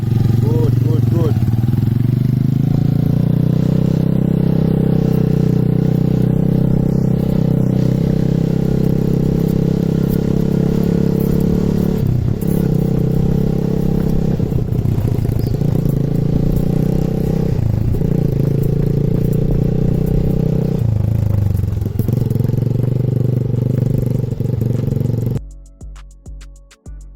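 A motorcycle ridden on a riding lesson, its engine a steady loud mid-pitched drone that dips briefly as gears change, running for most of the stretch before dropping away near the end.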